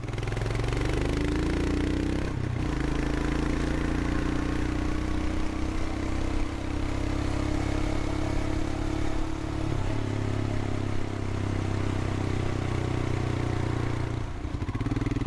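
Royal Enfield Himalayan motorcycle engine rolling through historic downtown Lexington, a steady mid-pitched drone with small shifts in revs and clattery mechanical texture, loud and continuous throughout.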